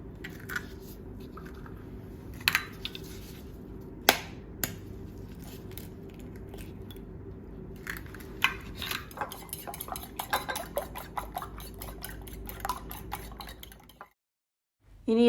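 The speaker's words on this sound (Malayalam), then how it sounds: "ഇനി മുട്ടയൊന്ന് ബീറ്റ് ചെയ്തെടുക്കാം" An egg beaten in a bowl for tuna fish patties, with a quiet run of rapid rhythmic taps and clinks of utensil against the bowl under a low steady background hum, ending in a brief silence.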